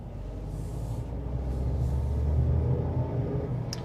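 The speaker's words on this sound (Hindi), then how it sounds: "ये है 3 सिलेंडर इंजन की गर्जना।" A three-cylinder engine in an Indian-made SUV gives a low, steady rumble that swells slightly as it revs, close and alone with no talk.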